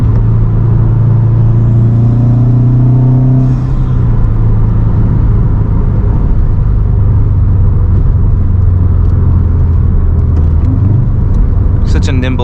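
A 2007 Subaru WRX STI with its boxer EJ engine drones steadily from inside the cabin while driving, a low continuous rumble that shifts pitch as revs rise and fall, with a voice talking over it.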